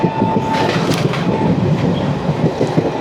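The 12075 Jan Shatabdi Express with ICF coaches runs between Shoranur and Thiruvananthapuram near Vadakkanchery station, its onboard rumble steady and close, with rhythmic clatter and a brief faint squeal.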